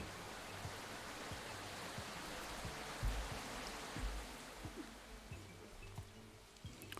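Steady rain in the video game Tukoni: Prologue hisses across a forest scene, with scattered low thumps and drops landing now and then; no voices, just the wash of rainfall.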